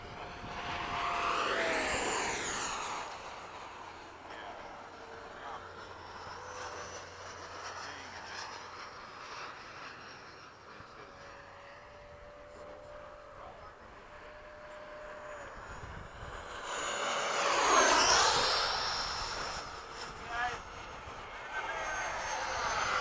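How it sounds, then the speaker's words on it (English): An Eflite 80mm F/A-18D RC jet with electric ducted fan makes low passes at a flying field, its whine swelling loud and fading twice, near the start and again later, over a quieter hum in between. "I'm doing a low pass behind you guys."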